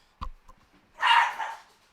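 A dog gives a couple of short, sharp barks close by, then a longer, louder bark or yelp after a brief pause, in an otherwise quiet indoor room.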